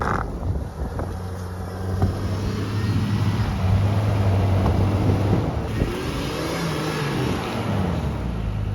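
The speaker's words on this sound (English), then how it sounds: "So we finally got the first Jeep stuck of the day." A Jeep engine strains and revs continuously while stuck on a snowy incline on Colorado's Rimrocker Trail, its low growl rising and falling under heavy outdoor wind buffeting.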